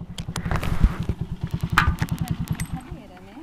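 A motorcycle engine runs with a rhythmic, evenly spaced chugging pulse, then fades out toward the end, with voices talking over it.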